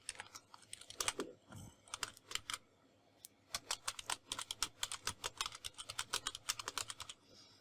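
Typing on a computer keyboard, with close, quick bursts of key clicks in an irregular rhythm, a short pause, then a faster, steadier run of keystrokes.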